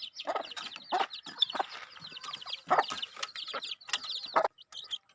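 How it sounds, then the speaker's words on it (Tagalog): Chicks in a rural Philippine backyard peck and cheep while eating softened Nutri-Grow feed, close-up bursts of chirping and pecking clatter in an uneven rhythm, with short quiet gaps. "Tingnan mo naman yung ating mga sisiw."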